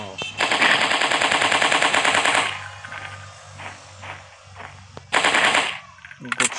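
Rapid bursts of automatic gunfire from the dinosaur hunting video game Dino Hunting Simulator, loud and continuous for a couple of seconds, then a pause with scattered shots before another dense burst near the end.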